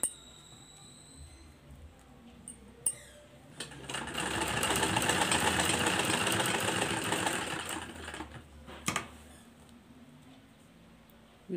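A sewing machine stitches samosa lace onto a round neckline in one steady run of about five seconds, bracketed by faint clicks and room quiet.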